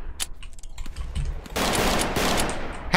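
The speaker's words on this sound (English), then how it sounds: "I'm gonna just shoot them." Gunfire in the Roblox game The Wild West: scattered sharp clicks and cracks, then a loud sustained volley of rapid shots crowding the second half.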